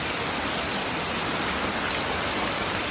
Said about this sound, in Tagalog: Panahon, hindi na mahangin. Ulan na lang.